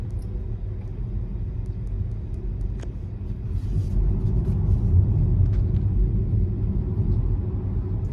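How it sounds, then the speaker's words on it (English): A 2025 Smart #3 Brabus on 19-inch wheels cruises at night, giving a steady low rumble of tire roar and road noise from inside the cabin that swells slightly midway, with no voices. "this car is running on 19-inch wheel, so obviously you can hear some tire noise"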